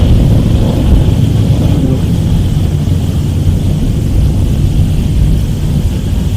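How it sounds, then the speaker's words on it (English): A 1969 Camaro with a 900-horsepower 632 cubic inch big block Chevy roars down a drag strip, a loud, continuous, heavy engine rumble with no talk over it. "Van Weisser left lane in that 69 Camaro, 900 horsepower, 632 cubic inch big block Chevy"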